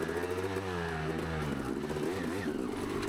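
A dirt bike's engine revs and bogs as the rider works it over a root on a muddy hare scramble course, a close, uneven growl lasting a few seconds.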